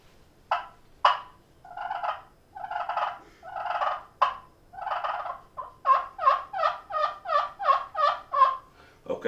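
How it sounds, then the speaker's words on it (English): A slate turkey call is stroked into a series of yelps, first spaced and raspy, then a faster run of about a dozen sharp, clear notes, close and alone. "here's my slate call."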